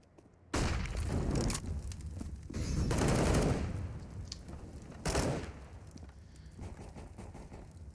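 Gunfire in a CS:GO esports match between FURIA and MIBR on Vertigo, a sudden loud onset of rapid automatic bursts, several dense volleys and sharp single shots over about eight seconds, with faint background noise.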